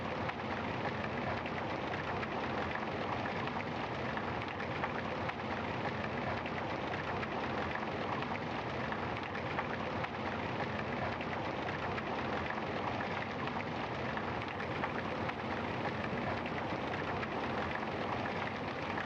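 Steady rain in the video game Night Watch, falling through a shed, a dense continuous hiss across the whole stretch with no voices.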